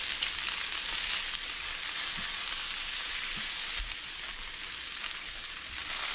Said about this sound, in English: Now we're gonna sear the broccolini.